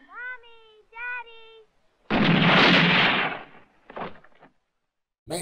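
In a film scene, a child fires a gun: a single loud, booming blast bursts out after a short voiced cry, then rings and fades, with brief voice sounds around it.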